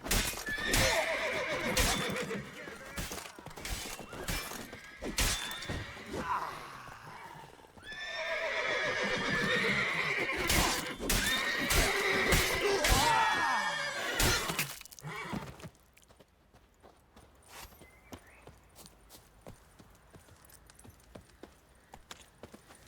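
A horse in The Witcher 3 video game neighs and whinnies loudly, with clip-clopping hooves and other busy game sounds, before everything drops to a quieter stretch of faint thuds and ambience.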